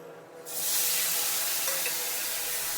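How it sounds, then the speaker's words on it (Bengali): A tomato dropped into a pan of sizzling village-style Bengali fish curry with whole cumin: after a quiet start, a loud, sudden burst of hissing sizzle erupts and holds steady, bright and close. "এখন দিয়ে দেবো একটা টমেটো।"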